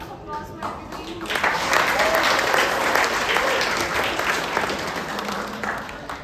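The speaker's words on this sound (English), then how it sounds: "Another round of applause for everybody." Audience applause at a tech conference talk on Go concurrency, a full, steady round of clapping that builds after a brief voice and holds evenly, heard from within the room.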